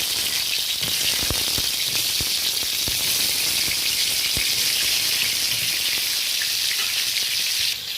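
Pointed gourds fry in mustard oil in a karahi, giving a loud, steady sizzle with scattered crackles and pops throughout, no voices over it.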